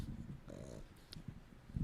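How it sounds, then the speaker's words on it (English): Several dogs in a home, heard as faint low growls and snorting noises close by, with no talk. "With all our dogs here."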